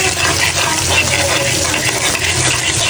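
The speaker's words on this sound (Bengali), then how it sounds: "তো এখানে আমি লাল শাকটা এখন ভাজি করব। তো পেঁয়াজ দিয়ে দিলাম, মরিচ দিয়ে দিচ্ছি 2-3টা।" Onions and two or three green chilies frying for a red amaranth stir-fry, a loud, steady sizzle with stirring scrapes running throughout and no talk.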